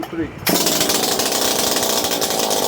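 A Makita DPC7321 gas concrete saw fires up after a pull at half choke, bursting into a loud, steady, rattling engine roar close by that follows a brief spoken count.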